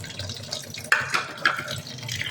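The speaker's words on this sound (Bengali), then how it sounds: "পটলগুলোকে আগে আমি ভালো করে জল দিয়ে ধুয়ে নেব।" Pointed gourds being rinsed in water make close, splashy sloshes with a few brief sharper splashes over a soft running trickle, no speech.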